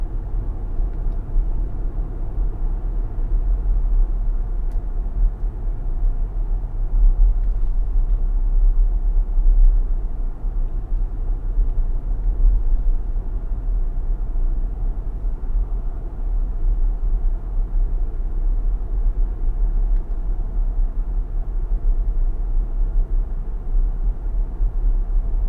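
A 2021 Nissan Armada Platinum cruises along a road at night, heard from inside as a steady low rumble of engine and road noise, constant and even throughout with no talk.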